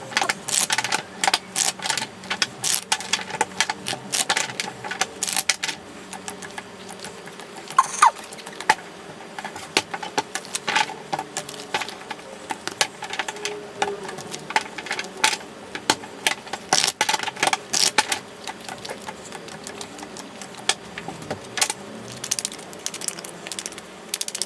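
Tarot cards are shuffled continuously at close range, a dense run of crisp papery flicks and riffles with small irregular bursts and no voices.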